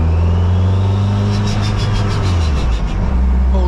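A Toyota MR2 Mk3 engine pulls from just above idle in second gear, a steady low droning rumble close by that rises gently, with a brief rhythmic whirring pulse joining partway through.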